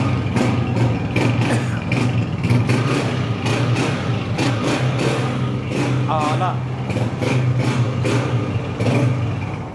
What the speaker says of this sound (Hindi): इंजन भी चेक करो, साउंड सुने दोस्त